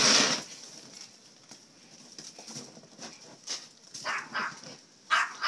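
A small dog yaps in a series of sharp, uneven barks, some close and loud, others softer, spread across a few seconds in a quiet indoor setting.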